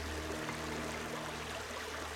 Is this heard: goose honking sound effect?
no